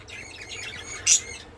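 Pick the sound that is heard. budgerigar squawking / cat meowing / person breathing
budgerigar squawking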